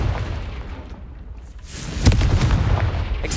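A blasting spell goes off in the Hogwarts Legacy video game with a sudden loud boom midway through, after a stretch of rumbling combat noise.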